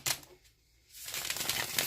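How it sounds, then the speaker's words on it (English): Tarot cards are shuffled by hand, a close, soft riffling and flicking of card stock with a brief pause in the middle before the rustling resumes, no voice heard. "While I'm shuffling for you here,"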